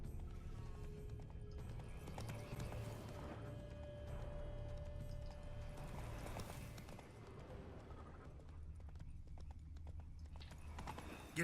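Roach, Geralt's horse in The Witcher 3: Blood and Wine, clip-clops at a steady gallop with a loud, continuous rhythm of hooves, a brief whinny, and a low game music bed underneath.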